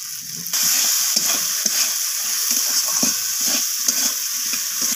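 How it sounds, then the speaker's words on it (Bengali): Fish curry masala for a surmai (kingfish) curry sizzles steadily in a pan, with the scrape and knock of a spoon stirring it in a loose rhythm; close and fairly loud, no talking. "তো লবণটা দেওয়ার পর আমি আবারও নাড়াচাড়া করে নিচ্ছি এইভাবে।"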